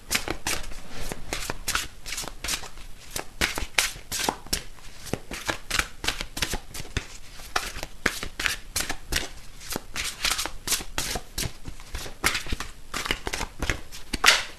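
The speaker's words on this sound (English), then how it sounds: "so let me grab these cards that I felt drawn to get" Tarot cards are shuffled over and over, a crisp rapid riffling and slapping in quick irregular bursts, close and clear with no talk.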